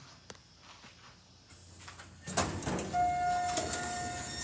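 An Otis Series 1 hydraulic elevator at a college technology center arrives: a quiet hum swells into a rumbling, sliding door movement with a clunk, then a sustained high tone rings over the machinery noise.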